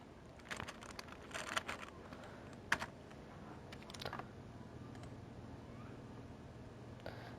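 Computer keyboard typing during a graphic design session, a few short bursts of soft clicking keystrokes scattered between quiet pauses, faint and close.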